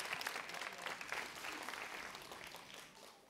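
Audience applause for a children's choir at a school concert, a dense wash of clapping from a crowd that holds steady and then begins to taper off.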